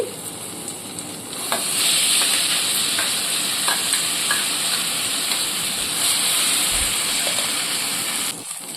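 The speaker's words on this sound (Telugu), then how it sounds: "ఇప్పుడు ఈ పోపుని బాగా ఫ్రై చేసుకున్నాము" A tempering of spices fries in a pan with gongura sorrel leaves, a bright steady sizzle and hiss under occasional stirring scrapes, swelling louder after the first second and holding close.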